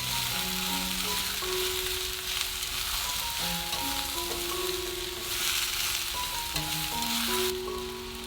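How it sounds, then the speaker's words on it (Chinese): Vegetables for a vegetarian mixed tofu stew stir-frying in a hot pan, a continuous sizzle with occasional scraping, under a steady background of soft instrumental music and no talking. "稍微多炒一下。"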